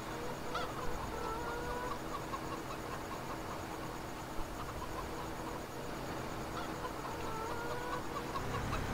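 Chickens cluck in Farming Simulator 2015, a steady busy chorus of fowl noises and honk-like calls running continuously at moderate volume against a constant background hum.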